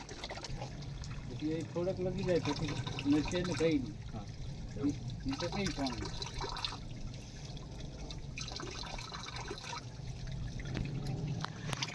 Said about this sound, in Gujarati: મિત્રો આ જે પાણી છે એ પાણી આપણને અહીંયા વહીને જતું દેખાય છે